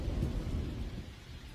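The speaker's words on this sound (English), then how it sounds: "And Liz, the rain still coming down in places." Torrential rain pours steadily during a monster storm over California, with a deep rumble of thunder rolling underneath, loud and close, and no voices.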